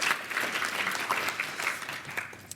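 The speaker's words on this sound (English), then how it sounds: "So just a round of applause." Audience applause for a speaker at a conference fireside chat, moderately loud and continuous, with a slight rise and fall before fading toward the end.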